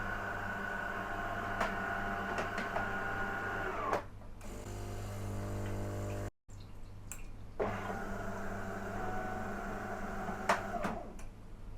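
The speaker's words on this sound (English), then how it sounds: "turn off the coffee machine before you start recording" An apartment coffee machine runs steadily in the background, a faint continuous mechanical hum that cuts out briefly and then resumes, with no talk over it.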